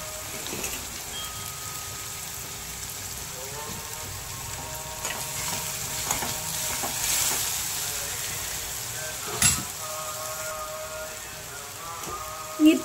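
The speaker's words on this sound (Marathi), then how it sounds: "आता यामध्ये आपण हिरवी मिरचीची पेस्ट घालूया. ती पण छान तेलामध्ये परतून घ्यायची." Green chili paste sautés in hot oil with a steady, rain-like sizzling hiss, fairly quiet and close, with a faint voice in the background and a couple of brief knocks near the end.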